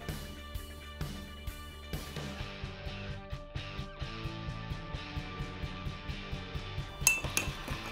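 A spoon beats an egg with four spoonfuls of sugar in a mug, giving a steady run of quick, light clinks against the sides over background music.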